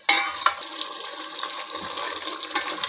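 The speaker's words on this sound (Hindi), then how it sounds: "हल्का सा पानी का छींटा लगाऊँगी" A splash of water hits a pan of potato and aubergine curry seasoned with dried chili, sending up a sudden rush of hissing sizzle that carries on steadily and fairly loud for a few seconds, with no talking.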